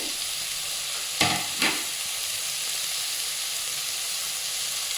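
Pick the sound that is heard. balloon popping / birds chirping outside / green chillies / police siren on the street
green chillies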